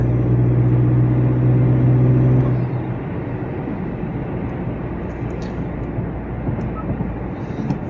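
A Honda Accord 2.0T with an MHI stage 2 turbo and automatic transmission holds a loud, droning engine note with a tonal whine for a few seconds, then settles into a broad, rumbling roar.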